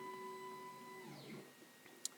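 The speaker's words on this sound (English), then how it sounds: "I can hear the 3D printer just started printing." A 3D printer begins printing: a steady mechanical hum with whining motor tones that bend and sweep as the axes start moving, fairly quiet and alone.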